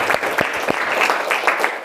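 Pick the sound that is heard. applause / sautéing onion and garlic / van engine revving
applause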